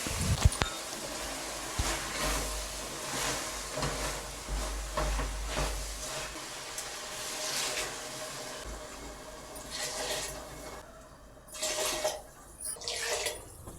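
Water poured into a pot for cooking vegetable biryani rice, a continuous hissing splash that rises and falls in bursts, close by with no talk.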